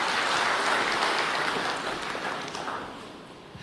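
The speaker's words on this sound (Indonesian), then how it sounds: "Pak Gilbert, Sekali lagi kita berikan tepuk tangan yang meriah" An audience at a church service breaks into warm, sustained applause, a dense wash of clapping that stays loud and even before tapering slightly at the end.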